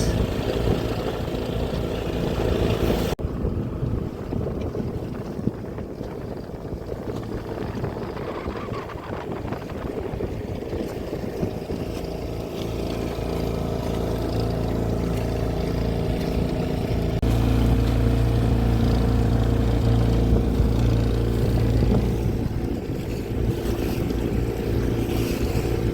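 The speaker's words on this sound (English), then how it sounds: "just motoring out." Sailing dinghy motoring across Lake Te Anau in New Zealand, heading out from Boat Harbour: a steady outboard drone with water wash and wind buffeting the microphone, continuous and close throughout with no voices.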